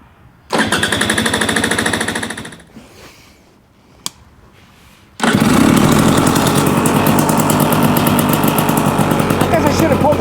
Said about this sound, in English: Starts right up, sounds real nice.